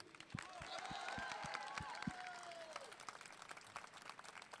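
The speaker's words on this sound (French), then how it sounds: "Je voudrais qu'on applaudisse monsieur le député Thierry Mariani." An audience at a French political rally claps steadily, a dense wash of applause with whistles and cheers that fades toward the end, with some voices heard over it.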